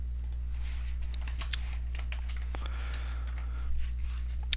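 Code being typed on a computer keyboard in Visual Studio, a run of light, close key clicks in uneven bursts over a constant low electrical hum.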